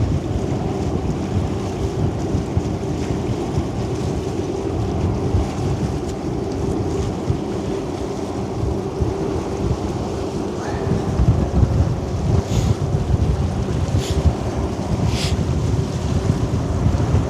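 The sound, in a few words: wind and waves on a ferry landing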